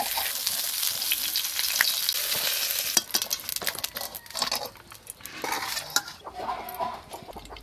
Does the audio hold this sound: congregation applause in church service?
no